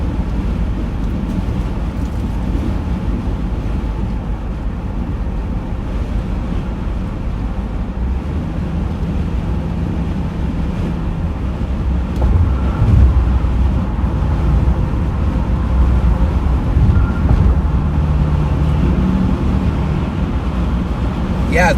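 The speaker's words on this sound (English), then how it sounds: "Dang, that wind is just ripping." Strong wind ripping outdoors in southwestern Michigan during lake effect snow and whiteout conditions, a loud, steady rumbling roar buffeting the microphone that swells stronger about halfway through.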